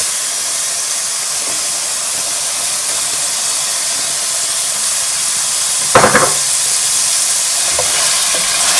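Dry fish fries with spices in a pan for a Bengali dry fish bhuna, making a steady hissing sizzle throughout, broken by a brief clatter of stirring near the end.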